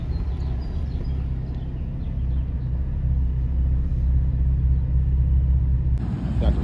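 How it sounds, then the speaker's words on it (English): Heavy trucks idle and creep up close by at a car meet, a steady low engine rumble filling the scene, with a brief louder shift near the end. "Got the trucks pulling up."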